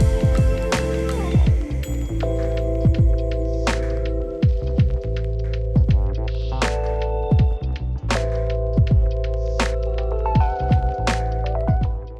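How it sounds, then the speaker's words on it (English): A CP80 25-litre diesel pump with a hopper runs steadily at close range while distributing liquid screed, giving a loud, continuous mechanical hum and throb with repeated thunks and pulsing knocks. "we're using the CP80 pump provided by CES Hire"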